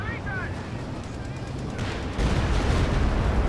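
A Company of Heroes 2 artillery barrage in the video game rumbles as a dense spread of booming blasts and gunfire that grows louder partway through.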